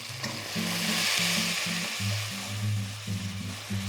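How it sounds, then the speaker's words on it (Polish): A steady sizzle of cabbage soup ingredients with chili flakes frying in a pan, with repeated scraping and knocking of a utensil as it's stirred. "Całość zamieszam i smażę minutę maksymalnie."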